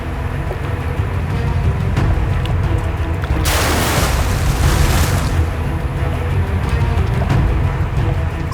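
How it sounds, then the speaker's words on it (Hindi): Over a low rumbling background, a sudden burst of loud, rapid gunfire erupts for a couple of seconds, then dies away. "ये लोग गोलियां क्यों चला रहे हैं?"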